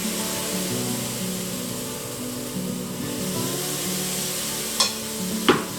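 Protein pancake batter sizzles in a frying pan greased with a little coconut oil, a steady close hiss over a low hum, with two sharp crackles near the end.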